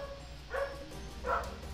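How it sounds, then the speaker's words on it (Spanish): Two short dog barks in the distance, spaced about a second apart, faint over a steady background hum. "Perdón si se escucha mucho los ladridos del perro"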